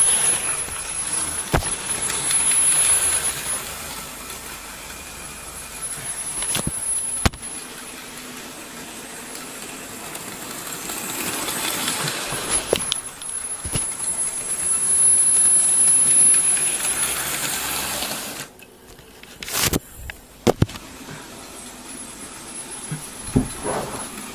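A Hornby James model train, 2016 version, runs along its track with a continuous mechanical whirring and rumble that swells and fades as it passes, broken by a few sharp clicks and a brief dropout.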